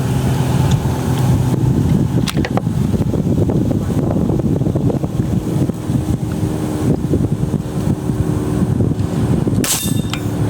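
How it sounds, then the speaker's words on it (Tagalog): Steady wind buffeting the microphone with a low rumble throughout, and a brief sharper gust near the end, at an outdoor shooting range during open-sight zeroing. "Mahangin na."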